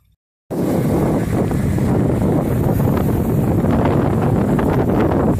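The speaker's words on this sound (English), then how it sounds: "It is windy." After a brief quiet moment, strong wind roars and buffets the microphone continuously, loud and close.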